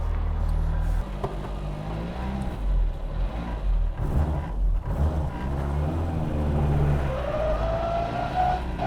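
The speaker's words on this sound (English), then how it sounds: "the first thing you're gonna notice in this ride is those straight cut gears" Straight-cut gears whine inside a classic Mini Cooper with a Specialist Components twin cam 16 valve BMW K head engine, the drivetrain droning loudly throughout a ride as the engine revs rise and fall, with a rising whine near the end.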